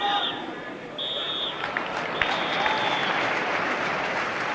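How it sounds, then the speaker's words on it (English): Football crowd at a Norwich City versus Tottenham Hotspur FA Cup fourth round match applauding as the players leave the pitch, a steady wash of distant stadium applause with a few whistles and faint voices mixed in. "good applause for the players as they come off"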